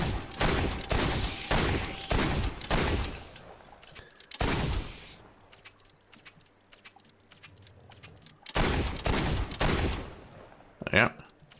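Pistol gunfire in the video game Fable 2, a series of sharp, loud shots in quick bursts with brief pauses, alongside other game sounds.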